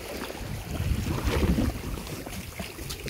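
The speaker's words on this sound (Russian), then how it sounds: "А это куда-то слив идет, такие звуки." Water draining somewhere near a boathouse on the Black Sea coast in Crimea, a steady rushing, gurgling wash with a wind-like hiss that swells slightly in the middle, continuous and fairly close, with no voices.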